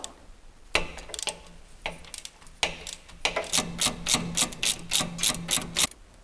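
A ratchet wrench works a tight brake caliper bolt loose on a Jeep Wrangler JK. Close, sharp clicks come first in scattered bursts, then settle into a quicker, regular run of ratcheting.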